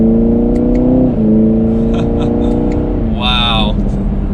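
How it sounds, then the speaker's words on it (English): A 2021 Chevrolet Camaro 2SS V8 exhaust revs in track mode, with a steady loud drone that dips as the revs shift, then a sharp rising whine near the end; close and continuous. "It has a really nice exhaust note."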